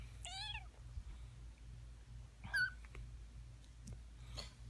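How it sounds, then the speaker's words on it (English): Four-week-old rescued kittens give a few short, high-pitched meows, with one close, fairly loud cry near the middle, over a low steady background hum. "These are 4-week-old kittens that we rescued at the shop."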